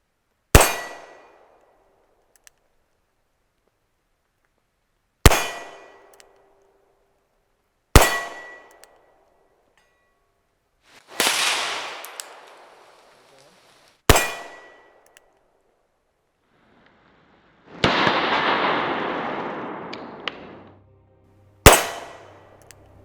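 Seven sharp Nagant 1895 revolver shots firing 97-grain bullets at an outdoor range, each a loud crack with a quick decaying ring, spaced a few seconds apart, with one longer rushing noise between shots.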